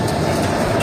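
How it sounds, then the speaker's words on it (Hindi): Freight train rolling past a railway crossing, a dense, loud, continuous rumble and clatter of wagons passing very close, heard alone without talk. "देख सकता रेलगाड़ी कैसे जाता है, मतलब ट्रेन मालगाड़ी"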